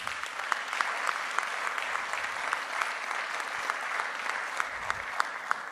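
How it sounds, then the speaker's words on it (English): Audience applause at a periodic paralysis research talk, a steady wash of clapping with distinct individual claps standing out, sustained at moderate level throughout. "Doctor, I'd like to applaud you on your research."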